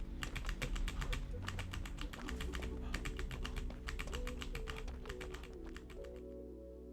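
Computer keyboard keys clack in quick bursts of rapid presses during Dead by Daylight play, the crisp taps fairly close and set over steady background music.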